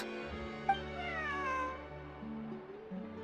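A cat in Genshin Impact gives a drawn-out, wavering meow, close and clear, over steady background game music.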